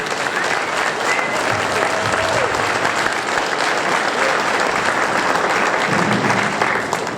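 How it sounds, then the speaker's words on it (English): A crowd applauds veterans at a Veterans Day parade held by a Detroit police precinct, producing loud, continuous, dense outdoor clapping from start to finish. "please give the veterans who are present here today a round of applause and thank them"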